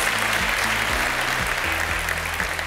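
Studio audience applause greets a television production team, a dense, steady clapping wash with low musical tones sliding underneath.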